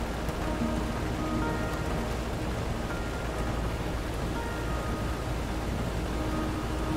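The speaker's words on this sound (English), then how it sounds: "Rain won't quit, will it, young blood?" Steady rain falls in the video game Road 96, a dense, even hiss of downpour that holds constant from start to finish with no voices over it.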